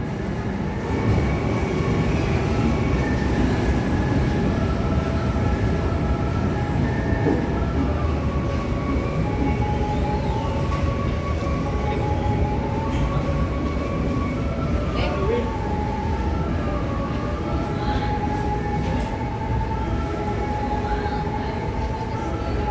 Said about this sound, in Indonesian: Kereta api lokal komuter line Garut masuk jalur 1